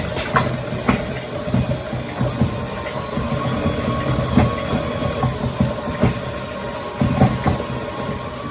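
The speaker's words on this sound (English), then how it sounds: "we're going to start the mixer and combine the butter and sugar." Electric mixer creaming butter and brown sugar for chocolate spiced cookies, a continuous mechanical whir with a rhythmic rattle and occasional knocks of the beaters, close and steady.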